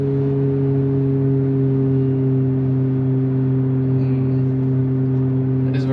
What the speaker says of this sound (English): Kind of just keeps revving up.